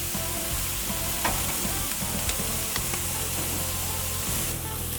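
Kalbi beef short ribs sizzle on a flame grill, a loud, continuous hiss with sharp pops of spitting fat scattered through it.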